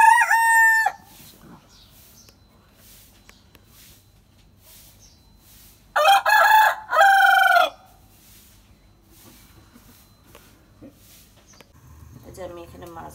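Chickens crow loudly in two bursts, one at the start and a longer one midway, with quieter clucking and farmyard sounds in between in a rural home kitchen area.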